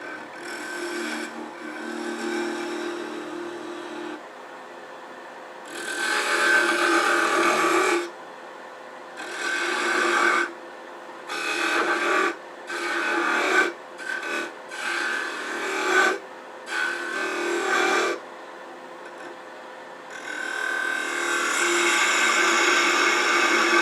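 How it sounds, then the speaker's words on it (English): A Nordic gonk ornament spins fast on a wood lathe while the cutting tool rasps against it in repeated bursts of several seconds, separated by quieter stretches of the motor alone. "I'm turning fast."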